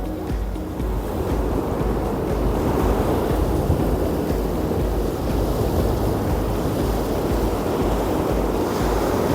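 Wind along a sea shore during fishing from the beach, a steady loud blustery rush that buffets the microphone, mixed with the low wash of surf, continuous and with no voices.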